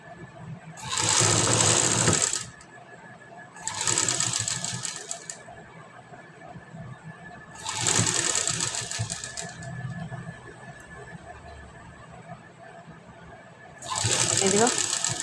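A sewing machine stitches the sleeve seam of a blouse in four separate loud, close bursts of rapid mechanical whirring, with quiet pauses between runs.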